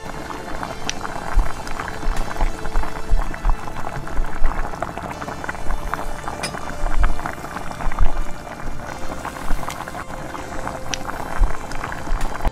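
A Hyderabad wedding-style green chicken curry boils in a pot until oil floats on top, giving a constant busy bubbling and popping at close range with small surges throughout.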